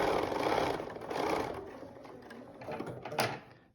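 A sewing machine stitches along the bias-cut edge of a quilt block with a quarter-inch seam, whirring steadily up close in two short bursts with no talking.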